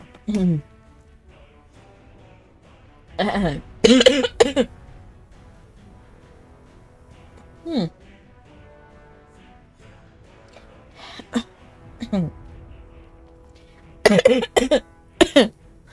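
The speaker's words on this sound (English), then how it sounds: "Sorry, I started coughing." A woman coughs in scattered fits after drinking cranberry juice, with sharp bursts and throat clearing separated by quiet gaps. Close and fairly loud, with short vocal sounds between the coughs.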